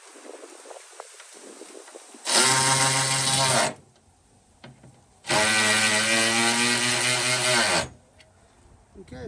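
Two sustained, loud bursts of a rapid buzzing tool, like a power ratchet tightening parts during a radiator installation on a 2006 Dodge Sprinter, each lasting a couple of seconds and separated by quieter workshop noise.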